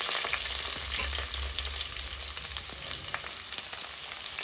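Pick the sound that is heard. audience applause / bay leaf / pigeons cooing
bay leaf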